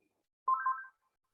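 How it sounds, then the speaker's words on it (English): A mobile phone rings once, a short bright electronic tone lasting under half a second, alone against silence. "that's my phone, sorry"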